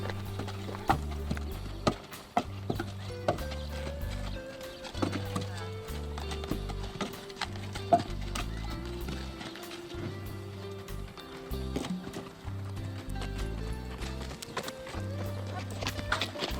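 Missouri Fox Trotter horses on a ranch in Arizona walk with clear, rhythmic hoof clip-clops at close range, steady throughout, with a voice speaking over them.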